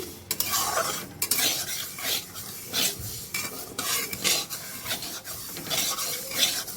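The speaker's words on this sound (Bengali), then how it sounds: "আমি সবার আগে মুগ ডাল ভেজে নেব" Mung dal dry-fried in a hot wok while a spatula stirs and scrapes it, a close, busy rasp of lentils sliding and rattling against the metal in repeated strokes with no talk.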